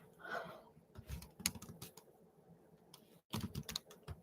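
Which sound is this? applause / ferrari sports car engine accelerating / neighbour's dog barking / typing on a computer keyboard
typing on a computer keyboard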